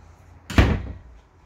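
The shower door of a 2021 Outback Ultra Lite 302UBH RV is pushed shut and secured with a single solid thud, close and fairly loud, that fades quickly. No one speaks.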